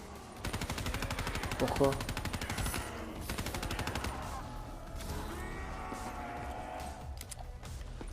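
Black Ops 3 small-weapon gunfire on PS4, a rapid, steady stream of close, loud shots for several seconds, easing into scattered bursts, with a player talking over it.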